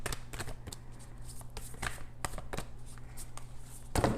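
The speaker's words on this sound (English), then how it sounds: "My goodness, I can't shuffle today." Tarot cards are shuffled by hand, giving quick, close riffling and slapping bursts in an uneven rhythm over a low steady hum.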